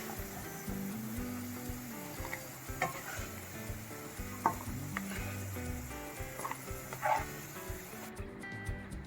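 Carrots and vermicelli sizzle steadily as they fry in a pan, with occasional stirring scrapes over the constant crackle, close and moderately quiet, and background music playing underneath.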